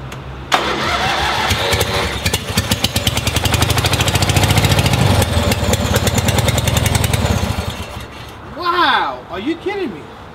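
An old tractor engine cranks, catches and settles into a loud, steady chugging idle for several seconds, then cuts off; excited voices exclaim over it right at the end.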